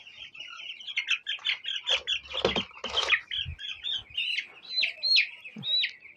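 A flock of ten-day-old broiler chicks chirps continuously in a poultry house, with overlapping high peeps and a few rising whistle-like calls close by, plus brief low thumps, with no talk.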